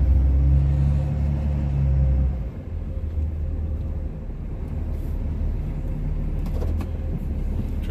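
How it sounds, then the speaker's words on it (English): A Cummins Ram heavy-duty turbo diesel truck plows light snow, a deep loud engine rumble that drops slightly after a couple of seconds, then steady low drone with faint scraping. "Turbo diesel,"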